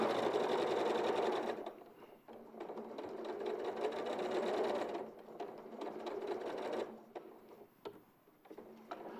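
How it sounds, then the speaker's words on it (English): A sewing machine stitches all the way around a cushion, whirring steadily in long runs that pause and restart near the microphone, with no talking over it. "So you're stitching all the way around."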